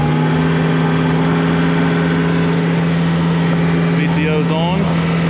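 A tractor engine idles loudly and steadily before tilling a food plot, with a brief rise in revs near the end.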